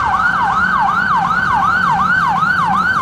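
An ambulance-style cartoon emergency siren wails in a steady, fast repeating up-and-down pattern, loud and close, with a low vehicle rumble underneath.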